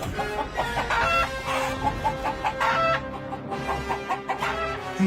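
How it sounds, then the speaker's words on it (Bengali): Three black chickens cluck and squawk close by in short, irregular bursts, their calls overlapping, in a Bengali cartoon. "তিনটে কালো মুরগি বেরিয়ে ছুটল ঘরের ভেতর"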